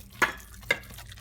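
Meatball mixture of eggs, parsley, garlic, cheese and seasonings is worked by hand in a bowl, with two brief squelching strokes over a quiet background and no voices.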